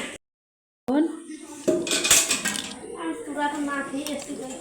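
Dishes and utensils being washed: clattering metal pots, pans and cutlery clinking close by, with a voice speaking over them after a short silent gap at the start.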